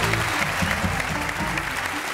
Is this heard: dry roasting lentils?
no